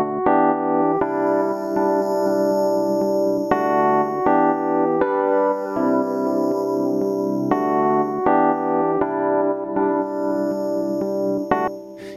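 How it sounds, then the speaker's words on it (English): Electric piano chords played in a Logic Pro session through an aux send with stereo delay and bit crusher, rhythmic stabs with echoing repeats and a gritty lo-fi top-end sizzle, steady and close with no talking. "We have a bus send on the electric piano, which goes into the aux 1, which has a stereo delay and a bit crusher."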